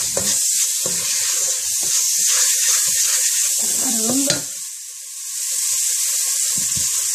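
Butter melting in a hot pan for crispy chocolate popcorn, giving a steady close hiss and sizzle with a few brief stirring knocks and a short dip in the frying sound.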